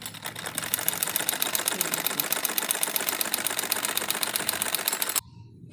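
A sewing machine runs steadily, stitching the seam of an umbrella-cut circular palazzo, its fast even needle clatter holding for about five seconds before cutting off abruptly into near quiet.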